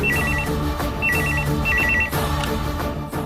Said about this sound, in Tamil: யாராவது போன் எடுங்களே.